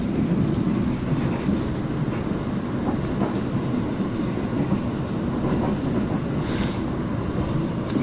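Parahyangan Executive passenger train running on rails through hilly terrain with bridges and tunnels, a steady loud rumble of wheels with faint clickety-clack throughout, heard from on board with no talk.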